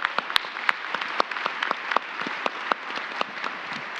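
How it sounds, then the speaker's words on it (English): Scattered audience applause at a leadership event, with distinct individual claps standing out from a steady patter that continues throughout, moderately close and without talking. "let's give that a round of applause"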